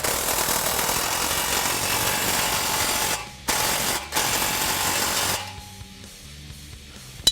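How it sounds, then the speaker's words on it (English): A ratchet tightening an exhaust clamp on the H-pipe of a 2015-2017 Mustang GT, loud dense mechanical clicking and grinding with brief pauses, then fading to quieter handling noise and a final clunk. "we can tighten the front clamp to the H-pipe"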